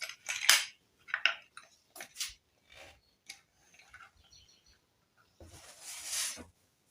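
A pot of arrowroot (nduma) stew being covered: several sharp metallic clinks and scrapes of a lid against a cooking pot, close and bright, separated by brief pauses, ending in a longer rasping slide.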